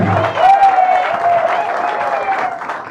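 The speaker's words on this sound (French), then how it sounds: "Est-ce qu'on peut encore applaudir pour elle, s'il vous plaît?" Guests applauding at an official civil wedding ceremony, a loud burst of crowd clapping with a sustained cheer or ululating voice riding over it, close and continuous throughout.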